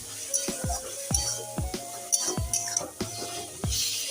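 Potato and ridge gourd with spices stirred over a high flame, a soft background sizzle broken by repeated sharp clicks of a utensil against the pan, close but fairly quiet.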